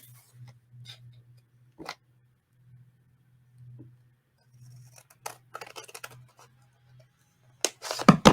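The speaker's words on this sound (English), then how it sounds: "I'll come back and trim up all the little bitty parts with my little scissors" Small Tim Holtz scissors trim little paper pieces in a quiet room: scattered crisp snips, then a quick cluster of cuts near the end, over a low steady hum.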